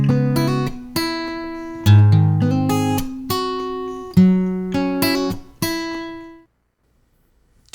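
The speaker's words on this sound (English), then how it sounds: "I'll be working with this recording of an acoustic guitar." An acoustic guitar plays a short phrase of plucked notes and strummed chords, with about seven clear attacks that each ring and decay. The playing is close and fairly loud with no voices, and the last chord fades to silence.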